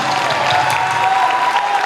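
Church youth jamboree congregation applauding Jesus: a steady wash of many hands clapping with a faint cheer, even and sustained at moderate loudness from start to finish.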